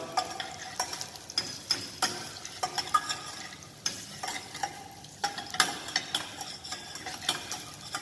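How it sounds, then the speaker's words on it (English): A ladle stirs garlic in a frying pan, making repeated sharp scrapes in a loose rhythm over a faint sizzle, close and fairly quiet, with no voices. "make sure you continuously stir with the ladle"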